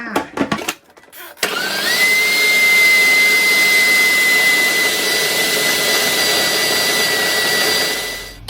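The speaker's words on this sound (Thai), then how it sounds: "ปั่นไปจนกว่าว่าจะมีเนื้อที่เนียนละเอียดนะคะ" A blender runs steadily at high speed, churning a Thai meatball mixture with a splash of ice-cold water into a smooth paste. A few short clatters come first, then a loud, even whir that holds for several seconds and fades at the end.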